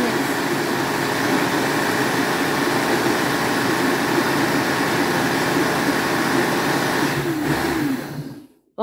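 An antique blender runs on turbo through an overripe fruit smoothie, a loud, steady whirring drone that holds for several seconds before winding down and stopping.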